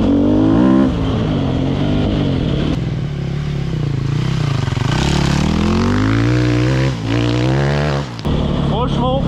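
Enduro motorcycle engine riding off-road, loud and close throughout, with strongly rising and falling harmonics as the rider opens and rolls off the throttle, and a brief sharp cut near the end.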